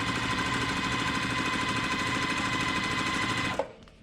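A sewing machine stitches a seam joining quilt strips, a steady fast mechanical whirring hum that runs unbroken, then stops abruptly with a small click near the end.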